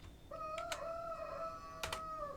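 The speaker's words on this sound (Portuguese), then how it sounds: "Começaram os galos a cantar" A rooster crowing once in the distance, a faint drawn-out call with a rising start and a long sustained tail, over quiet background hum.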